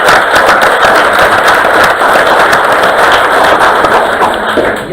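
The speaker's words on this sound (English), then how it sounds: "Let's give them all a round of applause again." Loud, dense crowd applause at a school district board meeting, a continuous rapid clatter of many hands clapping close to the microphone throughout.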